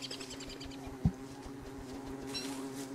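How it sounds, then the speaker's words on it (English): Bees hum in Don't Starve Together, a light, wavering buzz held under a steady low game drone, broken once by a short thump near the middle. "Oh, let's check our bees."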